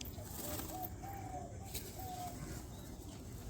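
A restless pigeon coos softly in a few low drawn-out calls over a faint steady background hum, with a little handling noise.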